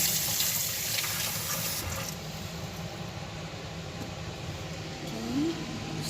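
Tap water runs steadily into a sink during hand washing in a kitchen, a continuous moderate splashing flow that carries on for several seconds with a slight shift partway through.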